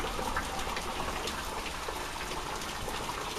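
Rain from a night thunderstorm in Tornado Alley falls in a constant broadband wash, with a few brighter drip-like spatters over the steady hiss and no talking.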